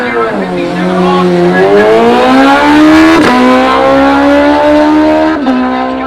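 Drag racing cars launch down the strip at a street series top 8 shootout. Loud engines rise in a rapid, stepped revving roar as they accelerate through the gears, heard close and steady with no talk.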